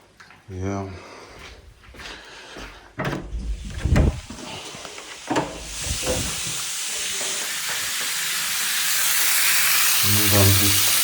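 Trapped air bubble hissing out of a household water filter housing as the tap is opened, a rising broadband hiss that builds steadily over the second half, preceded by clunks and handling noises with a voice speaking briefly.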